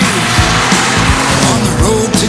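A BMW Z4 sDrive35i roadster's 3-litre twin-turbo straight-six roars loud and close under heavy revving, a dense, gritty engine growl with rising pitch sweeps and a continuous, full-throated exhaust note.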